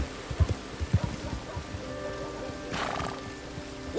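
A horse in the video game Red Dead Online clops along with heavy hoof thuds, then gives a brief breathy neigh amid a steady hum of ambient game sound and a rainy background.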